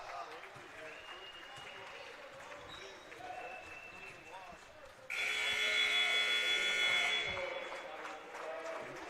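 A loud, sustained electronic buzzer sounds at the end of a college men's basketball game, cutting in abruptly over crowd noise, sneaker squeaks and commentary in an indoor gym.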